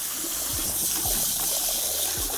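Water gushes steadily from a salon shampoo bowl faucet turned up to full pressure, a close, constant rushing stream with no talk over it.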